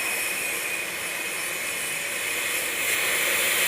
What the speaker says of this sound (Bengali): এই যে প্লেটটা কাটতেছে এখন